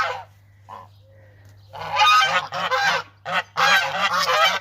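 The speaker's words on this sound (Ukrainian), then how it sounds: "Що, гусечки, що ви розмовляєте тут?" Loud, harsh geese honking in bursts of overlapping calls, close by in a village, after a quieter start with a few softer sounds.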